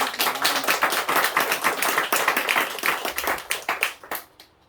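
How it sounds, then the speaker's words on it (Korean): Church congregation clapping for a married couple during a Korean Sunday afternoon service, a run of loud, close, distinct hand claps that grows sparse and trails off at the end. "우리 두 분 박수 한번 쳐주세요."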